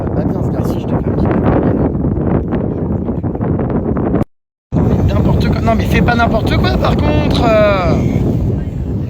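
Strong wind buffets the microphone outdoors in Rio, making a loud, constant rumbling roar under French conversation, with a brief dropout midway.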